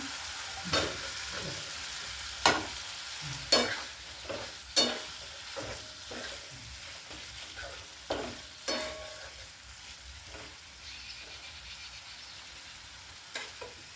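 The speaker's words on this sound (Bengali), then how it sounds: "মশলাটা কষা হয়ে গেছে, ভাজা আলুটা দিয়ে দিচ্ছি।" Fried potatoes stirred into a cooked-down spice masala of cumin and coriander powder in a pan, a soft sizzle under a series of sharp spatula scrapes and knocks arriving irregularly, close by, with no speech.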